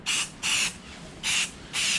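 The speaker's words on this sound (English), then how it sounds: "just spraying it on the table" Primer spray-painted onto a table hisses from an aerosol can in four short, even bursts with brief pauses between them, close and fairly loud, with no voices.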